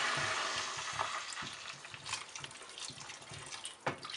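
Water pours steadily into a pot of sautéed zucchini for a zucchini cream soup, a continuous close splashing and trickling with a few soft clinks, no talk.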